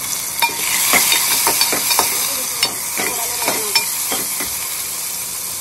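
Chopped tomato and green chilli stir-fry in hot oil with turmeric in a pan, a steady close sizzle broken by repeated scraping strokes of a spoon, with no talking.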